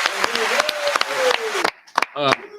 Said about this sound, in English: we got to clap it up one more time for that